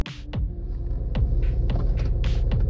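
A tuned car engine settles into idle with a steady low throbbing hum, close and even, broken by a few sharp clicks.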